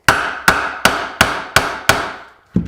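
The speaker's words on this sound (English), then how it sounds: "And that trick is just with a hammer." A hammer strikes a bolt to free a boat steering wheel: six loud, evenly spaced metallic smacks at close range, each ringing briefly, then a pause and one more knock, with no talking.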